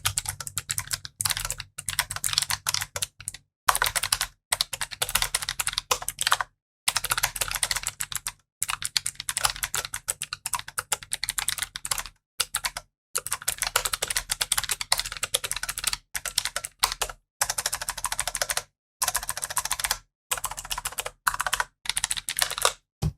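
Mechanical Genesis keyboard typed on from about half a metre away, with steady bursts of clacky keystrokes broken by short pauses.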